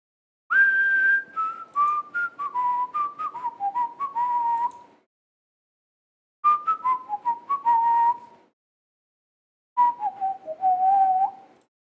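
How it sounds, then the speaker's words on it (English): A song made only of whistling, with melodic phrases gliding downward in three separate bursts separated by short silences, clear, close and unaccompanied. "There's songs that are just whistling"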